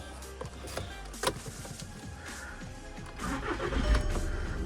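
A 2013 Skoda Octavia Scout 2.0 TDI diesel engine cranks and catches, settling into a steady, rough idle with a gruff clatter, close by.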